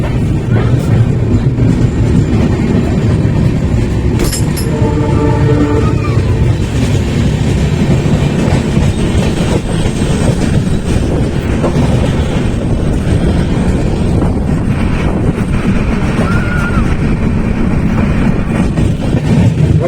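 Train running on a rail journey, heard from inside a mostly empty passenger coach: steady loud rumble and rattle of the wheels throughout, with brief clicking and a short whine partway through.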